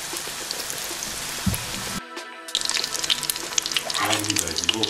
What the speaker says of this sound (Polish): Wkładamy i smażymy